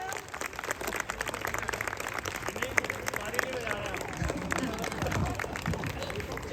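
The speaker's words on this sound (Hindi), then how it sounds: "छोटे पटाखे के लिए जोरदार तालियां।" Loud, steady applause from a school audience at a Republic Day (26 January) celebration, dense clapping with crowd noise and some voices mixed in, continuing evenly throughout.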